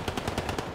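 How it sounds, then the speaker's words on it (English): Video game tank fire: a quick, even burst of about six muffled, rattling reports over a dense background, fairly faint and mid-distance, with no voices. "Actually, that was a tank."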